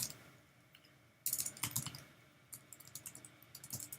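Quiet typing on a computer keyboard in short bursts of key clicks separated by brief pauses, close and fairly soft, with no voices.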